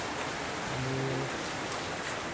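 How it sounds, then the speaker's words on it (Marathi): Steady rain falling outside a shop, a dense, even hiss that holds throughout, with a single word spoken briefly near the middle. "सध्या पाऊस चालू आहे"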